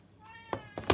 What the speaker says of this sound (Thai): มีแมวนะครับร้องตอนกลางคืนนะฮะ